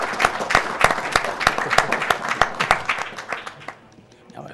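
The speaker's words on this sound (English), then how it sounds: "I got an applause from the audience for that." A live audience at the Awesome Games Done Quick 2014 speedrun charity marathon, during a Metroid Prime run, bursts into applause, a dense wash of clapping that holds steady before tapering off near the end, with some crowd murmur underneath.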